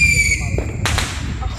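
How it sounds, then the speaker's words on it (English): Small backyard fireworks pop off close by in a quick burst of two or three sharp cracks, preceded by a fading high whistle or squeal. "Dang, those fireworks suck."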